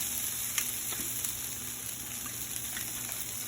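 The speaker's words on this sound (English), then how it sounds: "I'm probably going to need a little bit more oil so it doesn't stick. So I'm going to go ahead and add that now." Oil sizzling steadily in a hot frying pan on a home stove, a continuous close crackle with a few brief louder pops and no talking.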